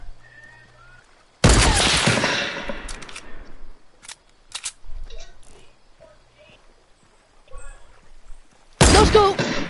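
Fortnite gunfire: a loud burst of shots opens, scattered quieter shots and impacts follow, and another heavy volley closes, with players talking over it.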